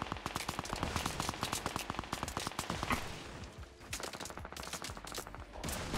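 Rapid bursts of automatic gunfire crackle in the battle royale video game Fortnite, dense volleys of shots rattling almost continuously, then thinning into scattered pops.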